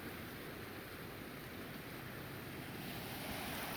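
A creek swollen into a flood after days of heavy rain rushes steadily, a broad continuous roar of water with wind buffeting the microphone, close and unbroken throughout.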